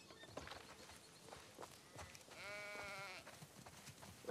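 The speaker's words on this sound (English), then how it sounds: "Listen up, sheep. Your dinner awaits you in the barn, so come on." A single sheep bleats in the video game The Last of Us Part II, one wavering cry of about a second amid soft footsteps and quiet farmyard ambience.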